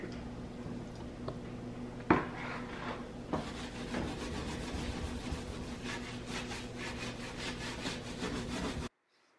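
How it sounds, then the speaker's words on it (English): A wet, pre-soaped Brillo steel-wool pad scrubs kitchen surfaces in steady back-and-forth strokes, a close, gritty rasping that starts after a couple of knocks and runs continuously until it cuts off. "To scrub, I use Brillo pads."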